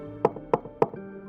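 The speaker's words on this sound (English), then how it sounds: "the sound of a faint knock at the front door startled me" Three quick, evenly spaced knocks on a front door, crisp and fairly close, followed by quiet in an otherwise still room.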